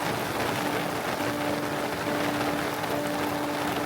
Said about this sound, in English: Just seconds later, we'd been hit by a sudden downpour.